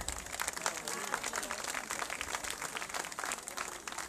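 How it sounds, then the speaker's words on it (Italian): A crowd at an outdoor summer festival evening in Montallegro applauds a councillor and the mayor, with continuous dense clapping at a moderate, slightly distant level lasting throughout. "Facciamo un applauso all'assessore Piruzza e al sindaco Scalia."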